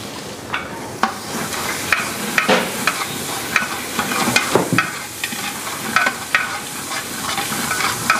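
Spices and chilli powder frying in oil for a village-style head mutton curry, a steady close sizzle broken by repeated sharp scrapes and clicks of a spoon stirring the pan, with no talk.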